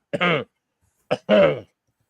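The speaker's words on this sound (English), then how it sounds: "You should get that cough looked at" Two short, rough coughs or throat-clears, spaced about a second apart, close and clear against silence.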